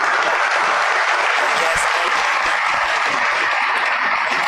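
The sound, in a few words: audience applause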